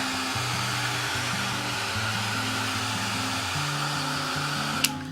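Hair dryer blowing steadily on a printed paper towel napkin laid over a Bible page, a loud continuous whir with a wavering motor hum, running alone without talk and ending with a brief click.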